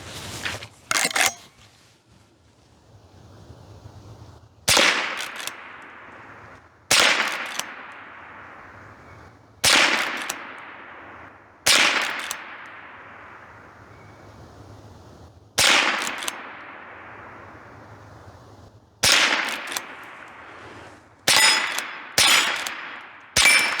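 A .22 rimfire lever-action rifle fires about ten sharp, loud shots, spaced a few seconds apart at first and then quicker near the end, each crack followed by a short decaying ring, with no talking.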